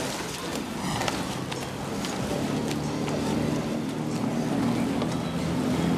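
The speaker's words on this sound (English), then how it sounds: "The big noise of the umpires, the engine on the umpires launch, that's following on." A motorboat engine on the umpires' launch at Henley's Diamond Challenge Sculls drones steadily and fairly loud, following two scullers off the start on the river, with a continuous low rumble and faint splashing throughout.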